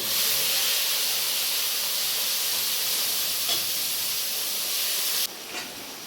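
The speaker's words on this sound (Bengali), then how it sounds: "আমার যে মিক্সারে বাটা মশলাটা ছিল সেটা আমি এখানে দিয়ে দেব।" A ground spice paste with whole cumin and a dried chili sizzles hard in hot oil for a Bengali potol paneer curry, a loud, steady hiss close by that drops in level near the end, with no talk.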